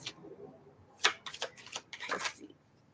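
Tarot cards being shuffled by hand, a few quick crisp riffles and flicks in close succession, fairly soft and near, with no speech.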